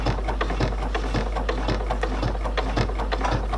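A sewing machine stitches slowly along a fold line on fabric for an embroidered notebook cover, with a steady rhythmic needle clatter over a constant low motor hum, close by.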